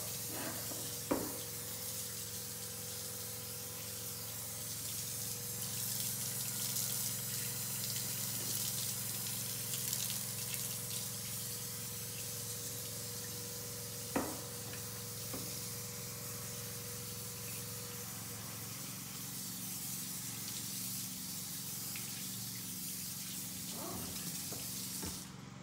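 Steady rushing of cold tap water running into a sink, continuous and close, with a couple of brief clinks partway through.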